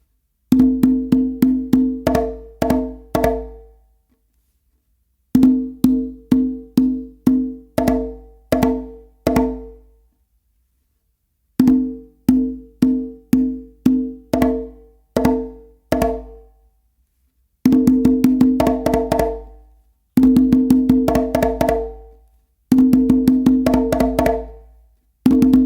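A conga solo phrase repeated several times, with quick flams and sharp close slaps in rapid clustered bursts separated by short pauses, crisp and close with no talking.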